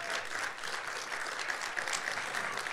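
An audience at a prostate cancer health talk applauds a doctor, a brief, even burst of clapping at moderate distance with no speech over it.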